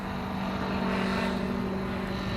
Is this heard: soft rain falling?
no